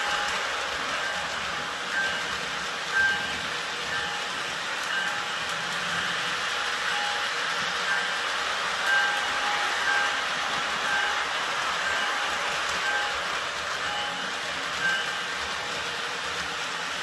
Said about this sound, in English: Cameron with his first train set